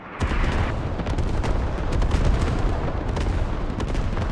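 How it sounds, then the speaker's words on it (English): Creeping artillery barrage in Squad landing beside a police checkpoint on the Mutaha map: a dense, continuous rumble of overlapping heavy impacts and booms, loud and sustained for several seconds. "Creeping barrage lands on the east side of the police checkpoint."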